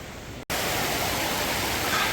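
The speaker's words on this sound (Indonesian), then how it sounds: "Di bawah ini ada sungai" A river flows below a mountain trail on Mount Rinjani, giving a steady, broad rush of water that fills the scene after a brief cut.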